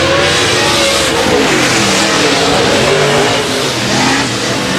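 A race car engine at Heart O Texas Speedway revs hard near the flag stand, a loud, continuous high-RPM roar with other engines blending in, close and steady throughout.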